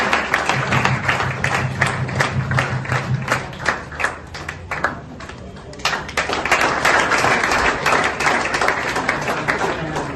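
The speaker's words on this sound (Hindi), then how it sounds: "जोरदार ताली बजाइए।" An audience claps at an office opening in Daltonganj, rapid scattered hand claps building into sustained applause, with a voice briefly speaking over the start.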